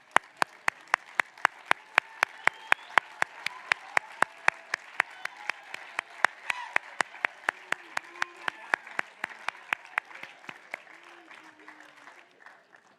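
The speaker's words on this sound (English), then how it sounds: "let us recognize them with a round of applause" An audience at an honors convocation applauds students who stand, a sustained wash of clapping from many hands, with one close, loud, evenly spaced clapper cutting through before it fades.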